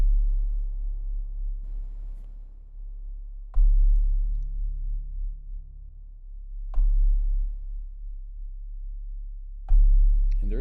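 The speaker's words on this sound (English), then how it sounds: "So I have the filter all the way down on this bell instrument." Dull, muffled synthesizer bell notes with the low-pass filter fully closed, struck every few seconds, each a soft low thump with a long, dark decay.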